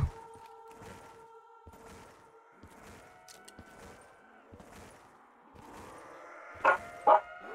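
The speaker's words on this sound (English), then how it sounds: "the dogs barking are great" Dogs bark faintly in the distance in a Call of Duty Black Ops 3 custom Zombies map, 1938: Full Circle. Short yips repeat at a steady rhythm over a quiet tonal hum, with two louder sharp sounds near the end.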